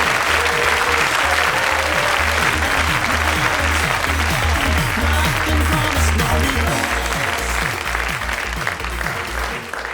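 A radio comedy studio audience cheers and applauds loudly as a guest is welcomed, a dense, sustained roar of clapping with rhythmic music pulsing underneath throughout.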